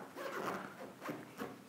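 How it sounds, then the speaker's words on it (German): A faint fabric zipper on a photography reflector cover is slowly drawn open, sticking and scraping in short uneven pulls, close by and quiet. "kann man per Reißverschluss aufmachen, wenn man denn den Reißverschluss findet"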